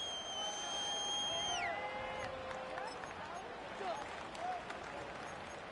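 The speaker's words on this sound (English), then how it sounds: "Plenty of shouts from this crowd as they watch the replay." Stadium crowd noise from Madden NFL 25 swells into a broad, steady roar of shouting and applause, with a whistle-like tone sliding down early on.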